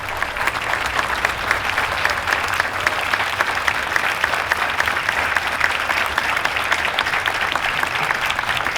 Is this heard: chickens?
no